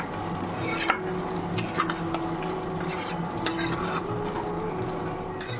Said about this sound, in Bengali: এখানে আলুগুলো কষে নিচ্ছি।